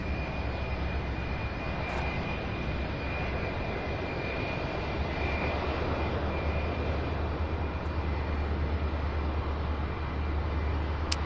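FedEx jet taking off at night from Louisville's SDF airport, a fairly quiet, sustained engine rumble with a low, steady drone running evenly throughout, with no voices.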